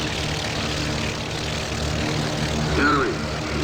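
Propeller engine drone of a Gee Bee racer aircraft flying in under fire in the game IL-2 1946, a steady loud rumble with a slight swell near the end, with someone talking over it.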